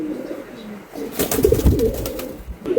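A pair of racer pigeons coos close by in soft, repeated low murmurs, with a louder cluster of coos and rustling in the middle of the stretch.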